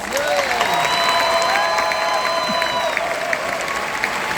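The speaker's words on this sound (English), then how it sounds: "Let's give these students a round of applause." A crowd applauds graduating students at a high school ceremony in Texas, a steady continuous wash of clapping with some cheering, while a few whistles sound over the clapping in the first few seconds.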